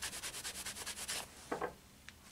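Rapid back-and-forth rubbing of a cleaning clay bar on a heavily rusted chrome-plated metal part, about a dozen quick rhythmic strokes, then a few slower scrubs and a light tap.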